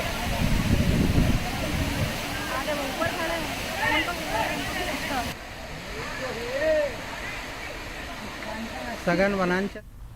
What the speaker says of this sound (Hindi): हरदा जिले का गोरा खाल वाटरफॉल बारिश के दिनों में आकर्षण का केंद्र है।